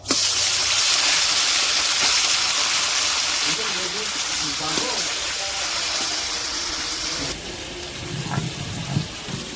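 Taro leaves hit hot oil already sizzling with panch phoron and bay leaf in a kadai, giving a loud, close, broad hiss that slowly eases and then drops off, with a voice briefly heard afterward.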